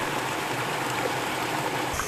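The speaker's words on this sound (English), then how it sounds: "Except for the small stream of the spring, the lake was empty" A small spring-fed stream at Lake Eyasi, Tanzania, running as a steady, continuous trickle and babble of water, fairly close and unbroken for the whole stretch, with no voices.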